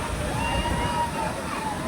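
Amboli's main waterfall in the Western Ghats rushes steadily in the background, a continuous wash of falling water under the chatter of a crowd of people nearby.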